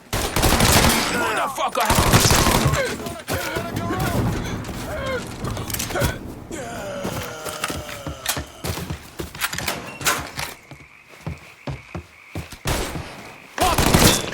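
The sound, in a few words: gunfire from the video game Mafia III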